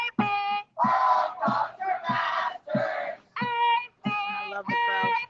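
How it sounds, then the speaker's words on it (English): Crowd noise at a nightly street march in Seattle, rhythmic bursts of collective chanting and shouting in repeated phrases with short gaps between. "I love the crowd."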